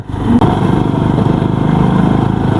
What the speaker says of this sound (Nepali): बाइकहरू त लास्टै धेरै हिँडिरहेको छ कि नन स्टप बाइकहरू गएको गइ छ